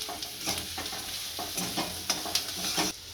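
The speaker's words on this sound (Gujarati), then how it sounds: "બધા કાંદાને આપણે સારી રીતના લાલ થાય ત્યાં સુધી શેડવી લઈશું" Onions sautéing in a pan for a dhaba-style methi malai matar, giving a steady close sizzle broken by repeated scraping stirs of a spoon through the pan, with no voices.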